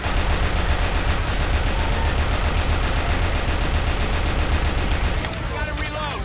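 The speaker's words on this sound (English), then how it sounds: "Dude, the AK just destroys the tank." AK rifle gunfire in a video game rattles in rapid, continuous automatic bursts, loud and close for several seconds, then cuts off as a voice briefly speaks over the fading game sounds.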